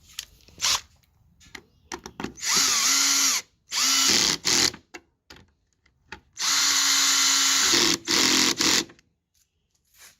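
A power drill drives screws back into a Ford Edge taillight in short whirring bursts, two long runs and several brief spins separated by quiet gaps, close up with no talking.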